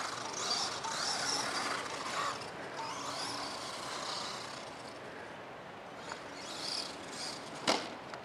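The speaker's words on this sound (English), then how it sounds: "giving it a bit of a run, making the motor work a bit, to see if it shuts down" The electric motor of a Traxxas Summit VXL RC truck, just back from repair, runs outdoors with a continuous rough whirring hum, its loudness rising and falling, and a sharp knock near the end.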